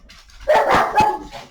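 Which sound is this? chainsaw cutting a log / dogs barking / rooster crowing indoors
dogs barking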